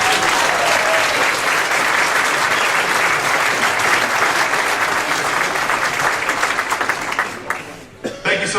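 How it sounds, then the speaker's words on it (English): Loud, sustained applause from a large crowd at an outdoor Tax Day tea party rally in Cincinnati, dense clapping for the emcee that carries on steadily before tapering off at the end. "Give him a round of applause."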